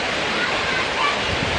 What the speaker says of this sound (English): I'll show you the second stage of this waterfall.